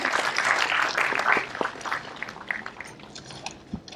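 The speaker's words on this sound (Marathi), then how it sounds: "अमोल मटकर, त्यांच्यासाठी जोरदार टाळ्या." An audience at Shivaji Mandir claps for Amol Matkar: a short burst of applause that loudly fills the first second and a half, then thins into scattered claps and fades away.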